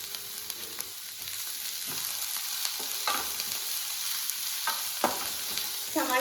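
Sliced onions and three green chillies frying in a pan for a tomato egg fry, a soft continuous sizzle broken by several scraping stirs of the spoon at irregular intervals.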